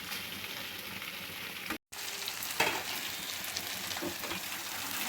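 Fish sizzles steadily in a hot frying pan, a dense, even crackle close by that drops out for a split second and then resumes with a few louder pops.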